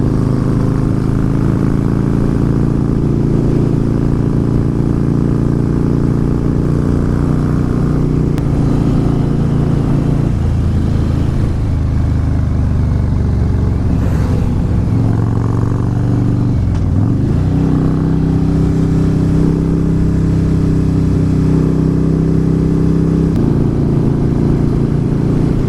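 A Harley-Davidson Fat Boy S rides a winding California road with a continuous loud engine drone and wind rush. The pitch dips and rises as the rider slows and accelerates through the bends.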